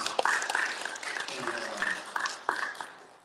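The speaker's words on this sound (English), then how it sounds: "let's thank our panel and give them another round of applause" A round of applause for a panel discussing Malcolm X, moderate clapping with scattered sharper claps and a few voices mixed in, sustained across the moment.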